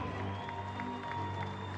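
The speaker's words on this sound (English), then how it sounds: "Keep it going, ladies and gentlemen. Big round of applause" Arena crowd applauding a basketball team after a final, a faint, distant, continuous wash of clapping and crowd noise.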